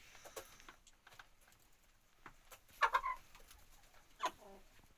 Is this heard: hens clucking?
yes